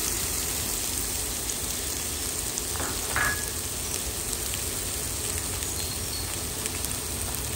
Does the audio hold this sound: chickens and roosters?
no